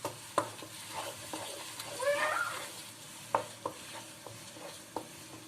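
Lentils stirred into ghee and yogurt for a Pakistani mixed-pulse daal, a soft steady sizzle with intermittent sharp clinks and scrapes of a spoon against the pot.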